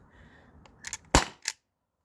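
T4E HDP50 Gen 2 HPA pistol fired through a chronograph, giving a quiet mechanical click followed by one sharp, loud pop and a short trailing snap, then silence.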